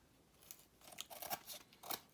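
Long scissors snip through paper for a handmade dinosaur journal cover, with several quick close cuts in an uneven rhythm and no voices.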